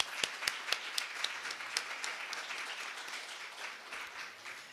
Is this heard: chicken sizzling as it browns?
no